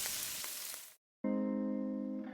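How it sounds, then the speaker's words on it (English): Spam frying in a pan sizzles loudly for about a second, then cuts to silence, followed by a sustained steady hum. "That's the Spam brand, singing you a love song. Spam, sizzle, pork"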